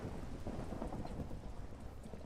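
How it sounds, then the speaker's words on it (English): Thunder in the Minecraft video game, a dense rolling rumble mixed with the hiss of rain, sustained and moderately loud across the whole moment with no voices. "Oh, I love the sound of thunder."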